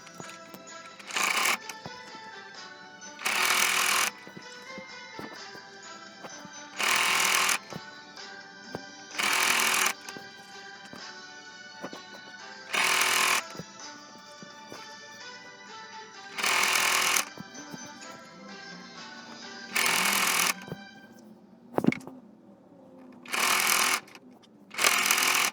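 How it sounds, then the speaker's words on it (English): A sewing machine runs around the edges of fabric from a men's shirt being made into a lady's Christmas dress, in repeated short loud bursts of stitching separated by pauses, nearby and without talk. "so just go ahead and start sewing all around the edges"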